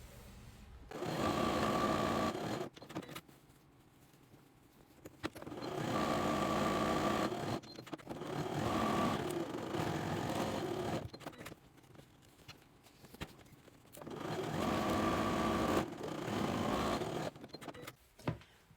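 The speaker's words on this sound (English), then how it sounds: "we're just going to sew straight across, and we're going to do that on all 4 of our corners from the mat and the liner" A sewing machine runs straight across the corners of a dish drying mat and its liner in repeated short bursts of motor whir, separated by quiet pauses, close and moderately loud.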